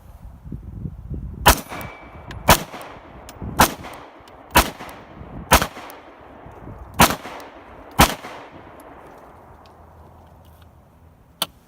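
Kahr CW9 9mm pistol fired from a seated position, seven sharp, loud shots spaced roughly a second apart with quiet gaps between them.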